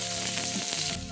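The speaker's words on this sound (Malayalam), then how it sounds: "ഇനി നമ്മൾ നേരത്തെ അരിഞ്ഞു വെച്ചിരിക്കുന്ന ചുവന്നുള്ളി വെളുത്തുള്ളി ഇട്ട് കൊടുക്കാം കേട്ടോ." Chopped shallots and garlic sauté in hot oil in a pan for vanpayar mezhukkupuratti, giving a short, continuous close sizzle over a faint steady hum.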